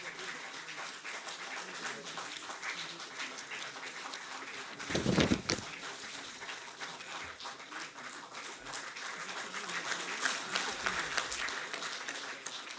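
Audience applause at a felicitation ceremony for Asian Games 2022 medal winners, a steady moderate clapping from a crowd with a louder burst midway and a swell toward the end.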